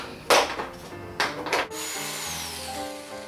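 Two short bursts of drilling a hole for a USB connector in an Altoids tin, followed by the drill whining down with a falling pitch and a low hum.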